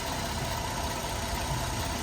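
The 3.6-litre engine of a GMC Acadia idles smoothly at a steady, even hum with a light continuous rumble and no talk over it.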